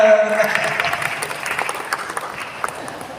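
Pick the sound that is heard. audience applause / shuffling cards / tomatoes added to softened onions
audience applause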